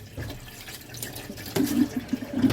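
Seaweed being washed by hand under running water in a kitchen sink, with a steady faucet stream and wet splashing that grows louder partway through, close and without talk.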